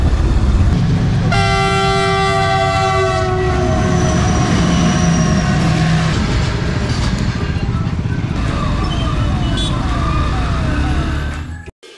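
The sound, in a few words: train passing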